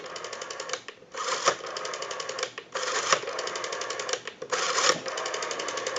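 A Western Electric 302 rotary desk telephone dial spins back after each pull, giving bursts of rapid mechanical clicking and whirring with brief pauses between returns, close and fairly loud, with no voices.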